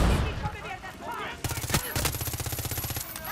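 Rapid automatic gunfire in the Far Cry 6 video game, a fast string of close, loud shots after a brief quieter lull, with the speaker's voice partly under it.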